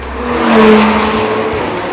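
A 2013 Audi R8 V10 Plus's 5.2-litre V10 engine revs up and eases back in one sustained, close roar with a rising then falling pitch.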